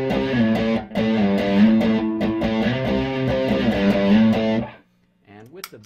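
An electric guitar plays through an EWS Brute Drive distortion pedal with boost engaged, loud saturated chords and riffs with sustained harmonics, then cuts off and a faint note and brief noise follow.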